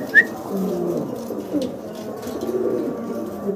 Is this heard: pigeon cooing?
yes